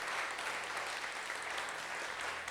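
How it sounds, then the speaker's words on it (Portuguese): A church congregation claps in a faint, steady wash of applause during a Portuguese-language worship service, even and continuous throughout. "Aplauda Jesus, igreja"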